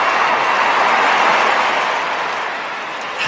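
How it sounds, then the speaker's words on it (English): Sustained applause from a large crowd at a sumo match, a dense wash of clapping that stays loud and steady before easing slightly toward the end. "I needed the sound of applause again."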